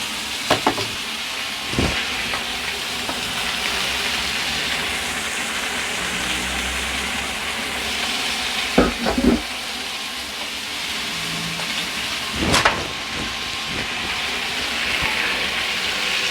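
Onions sizzling and frying in a pan alongside pork chops, a continuous close hiss with a few sharp clacks from stirring and pushing the food aside.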